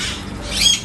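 Birds squawk at a bird park in St. Maarten while feeding, with a burst of harsh high calls over a steady busy background, fairly close and moderately loud.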